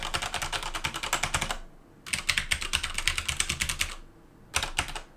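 Keystrokes on a HyperX mechanical keyboard with a metal base come in two close, steady bursts of quick, crisp clicks, then a short final flurry after a pause.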